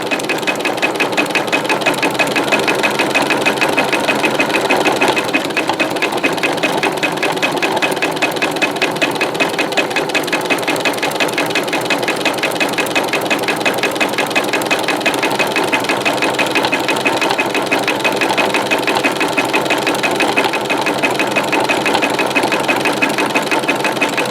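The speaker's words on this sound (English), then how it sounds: "then I'll start sewing really fast" A sewing machine runs fast and continuously while stitching rope into an oblong rope bowl, a steady, close mechanical whir with no pauses and no talking.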